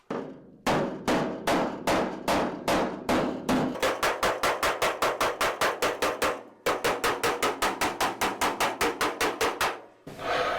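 A hammer taps down a car trunk floor panel in a fast, even run of sharp metallic strikes, close and loud, with one short pause partway through.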